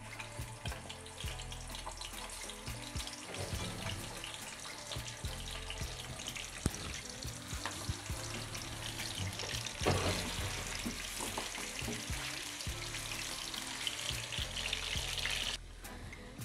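Chicken pieces frying in hot oil for a green chicken karahi, a steady close sizzle with scraping and stirring clatter running throughout, no talking.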